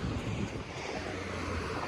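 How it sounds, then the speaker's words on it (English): Strong wind buffeting a microphone outdoors on a cloudy day in Philadelphia's Fairhill neighbourhood, producing loud, continuous low rumbling gusts with no pause. "It's so windy."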